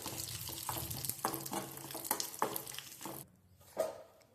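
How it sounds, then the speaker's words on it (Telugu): Almonds and raisins frying in ghee in a kadai for rava laddu, a busy crackling sizzle with scraping stirs that drops off sharply near the end, leaving a faint clink. "కొంచెం నెయ్యి వేసి బాదం కిస్మిస్ నెయ్యిలో వేయించుకొని ఈ రవ్వలో వేసేసుకోవాలి"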